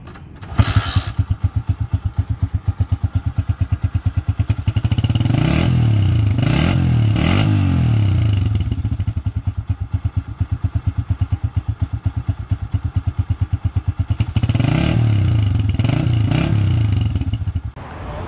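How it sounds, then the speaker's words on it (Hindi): A restored 2016 Honda CG125 motorcycle engine idles with a steady putter, then revs up loudly in two bursts of rising and falling throttle before settling back to idle. "तो जैसा आपने मोटरसाइकिल का साउंड भी सुना"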